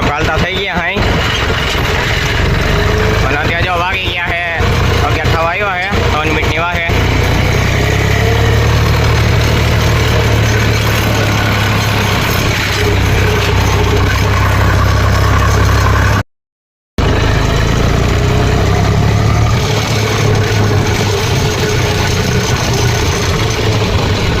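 A tractor engine idles with a rotavator attached in a village field, a loud, steady low mechanical drone that runs throughout, with people talking over it early on.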